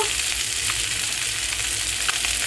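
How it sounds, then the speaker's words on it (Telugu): Pieces of fish fry in hot oil in a home kitchen, giving a loud, continuous crackling sizzle with occasional sharper pops and no voices. "చూడండి చేప ముక్కలు ఎలా వేగుతూ ఉన్నాయో"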